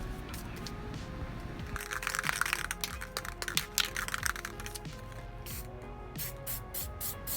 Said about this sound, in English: I just sprayed some transparent gloss spray paint on there just to wetten the paint a little bit.